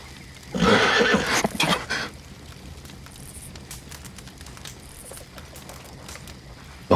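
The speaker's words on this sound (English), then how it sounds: "The horse." A horse in the video game Red Dead Redemption 2 neighs loudly near the start, a shaky drawn-out whinny, followed by quieter rustling and soft scattered noises.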